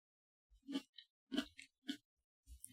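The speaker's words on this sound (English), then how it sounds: "So if you hear me chewing, or if it sounds like I have something in my mouth, that's why." Grapes and cheese being chewed close to the mouth, a few separate moist bites and crunches spaced irregularly, quiet with silence between them and no talking.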